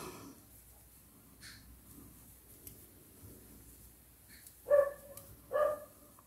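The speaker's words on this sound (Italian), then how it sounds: "Non so se si sente il mio cane che abbaia" A dog shut outside barks twice, muffled and distant, with short, sharp woofs near the end of an otherwise quiet indoor room.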